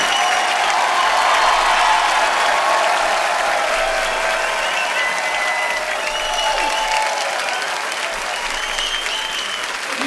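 A studio audience at a Hindi comedy talk show, The Kapil Sharma Show, applauds loudly and steadily for a long, sustained stretch, dense clapping with faint voices underneath.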